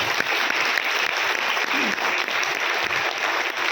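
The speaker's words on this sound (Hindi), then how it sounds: "ताली बजनी चाहिए" Continuous audience applause, dense and fairly loud, with a brief murmur of voices low in the mix, steady from start to finish.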